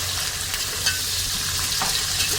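Sliced onion sizzling and frying in oil in a pan with curry leaves for masale bhat, a steady loud crackle with occasional stirring scrapes and no talking.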